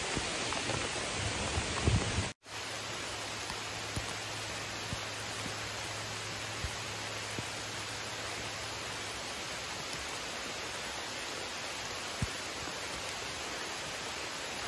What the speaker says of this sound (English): Just in time for the rain.